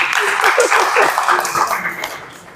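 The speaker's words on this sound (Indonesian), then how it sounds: "Tepuk tangan buat Imaba." Audience applause at an IMABA student association inauguration ceremony, a dense, loud wash of clapping that slowly fades, with faint crowd murmur underneath.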